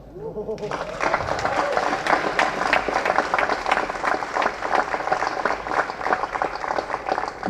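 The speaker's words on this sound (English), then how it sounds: "That's an applause that's coming to him decades later." Sustained applause from an audience, dense clapping that swells in quickly and keeps going steadily throughout.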